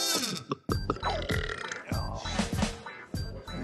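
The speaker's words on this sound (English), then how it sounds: "You know you have to go like this when you burp." A person burps loudly in a noisy pub during a New Year's pub crawl, with crowd chatter and background music around it.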